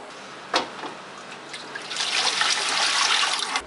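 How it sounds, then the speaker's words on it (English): Majolica glaze being stirred in a bucket and passed through a sieve, a soft liquid swishing with a brief splash, then a steadier wet rush of running glaze. "Put it into the bucket, stir it and pass it through the sieve."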